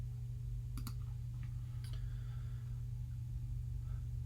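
Several light computer mouse clicks sound at close range, a quick double click and a few single taps, over a steady low electrical hum.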